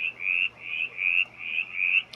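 A mountain chorus frog calls in a steady series of about five short, raspy rising trills, evenly spaced, clear and fairly close, with no voices.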